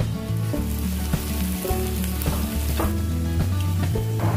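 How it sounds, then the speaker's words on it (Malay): Food sizzles steadily in a hot pan while being stir-fried until wilted, with dried shrimp added, occasional scraping clinks over the continuous frying hiss. "Kita kacau dan goreng sehingga layu."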